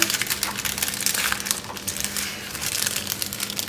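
Butter paper crinkles and crackles in close, busy bursts as it is folded and pressed around a chicken frankie, with a few sharper crunches.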